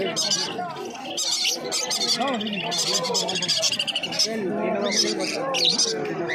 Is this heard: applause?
no